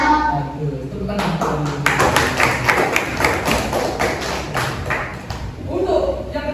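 Children in an elementary madrasah maths class clap their hands together in a burst of rhythmic claps, near and fairly loud, with a teacher's voice and classroom chatter around it.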